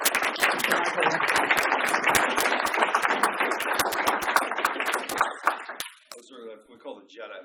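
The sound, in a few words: audience applause welcoming keynote speaker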